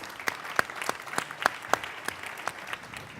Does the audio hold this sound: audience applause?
yes